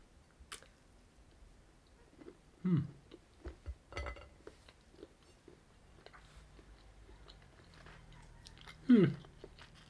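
Quiet, close chewing of a Cadbury Goo Heads chocolate egg, with a few soft bites and squishy mouth sounds spread over a near-silent background, with a couple of louder low thumps.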